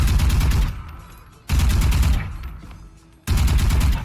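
Rifle fire from the Vandal in the video game Valorant comes in three loud, close bursts of rapid shots, each burst separated by a brief pause with a fading tail.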